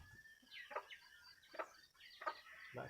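A rooster clucks in three short, quiet bursts about a second apart, close by and with no talk.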